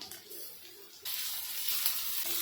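Ginger garlic paste hits hot onions in a pan and starts sizzling. A quiet stretch gives way to a sudden, loud, steady hiss of frying that keeps going to the end.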